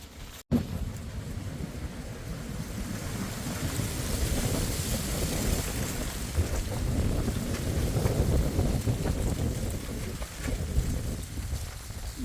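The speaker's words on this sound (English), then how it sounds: "This is how windy it is Saturday morning." Strong wind gusting through trees around a car camping spot on a Saturday morning, a steady loud broadband roar with surging gusts for the whole stretch and no voices.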